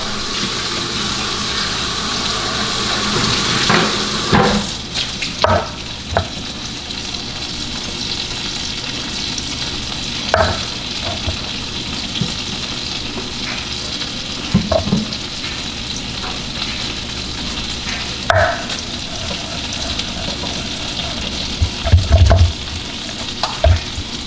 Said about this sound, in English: we're gonna throw this butter in the cast iron, get the cast iron hot, let that sizzle down